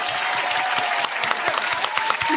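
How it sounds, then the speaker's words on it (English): Steady applause from a small audience fills the whole stretch, dense and even without a break, with a faint voice underneath. "I'm going to clap for you."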